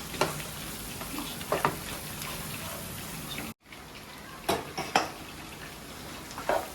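Chicken sizzles steadily in a pan with coriander added, broken by sharp scrapes and clinks of a spoon stirring against the metal, with a brief pause in the middle; nobody talks.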